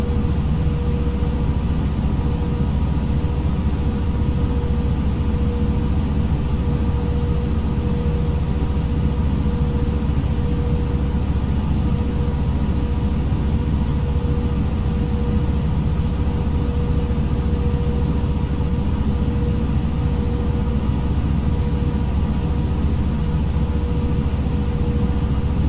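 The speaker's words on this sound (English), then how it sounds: "Engine sounds are so loud" Steady, loud jet engine drone of a FlightFactor A320 airliner in the X-Plane 11 flight simulator, a continuous low rumble with a faint high whine, unbroken for the whole stretch with no talking.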